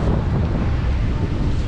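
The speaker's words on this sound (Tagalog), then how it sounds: "Medyo malaki ang alon." Large sea waves heard from a boat at sea as a loud, continuous roar of water mixed with heavy wind buffeting the microphone.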